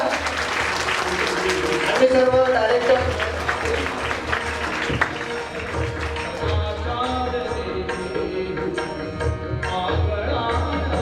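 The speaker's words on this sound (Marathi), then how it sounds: "आपण जोरात टाळ्या वाजवूया" An audience at a motivational training event breaking into sustained applause, steady clapping that carries through the whole passage while a voice speaks over it.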